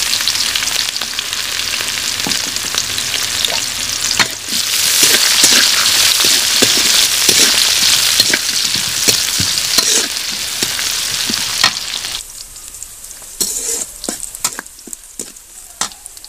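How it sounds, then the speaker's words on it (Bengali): Onions frying in oil with cardamom, cinnamon and bay leaf crackle and hiss loudly close by, with intermittent stirring scrapes and pops, then the sizzle drops to quieter scattered crackles near the end. "আর পেঁয়াজটা একটু লাল করে ভেজে নিয়েছি"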